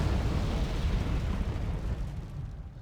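A Harrier bombing run in Wargame Red Dragon sets off a dense, rumbling roll of overlapping explosions that holds steady for a few seconds, then gradually fades.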